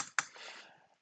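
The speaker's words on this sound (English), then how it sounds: "So on the Swiss keyboard, you do that with option 5 and option 6." Keys tapped on a Swiss computer keyboard to enter square brackets, a sharp near click followed by a softer trailing keystroke, short and isolated.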